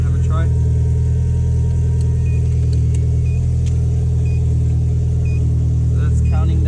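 A Mitsubishi Evo X engine idles with the key out while an HKS Type 0 turbo timer keeps it running, a steady low rumble throughout with a few faint beeps and a voice talking over it.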